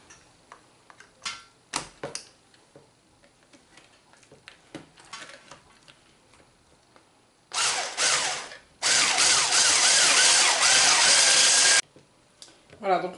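Liquid cream with 30% fat whipped for a Speculoos Nutella tiramisu, with scattered clicks and light handling at first, then a loud, steady whirring burst of electric whisking lasting a few seconds before it stops.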